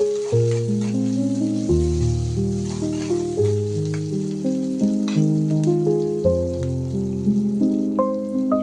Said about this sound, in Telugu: దీనిలోకి మనం తీసుకున్న కాజు కూడా వేస్తున్నాం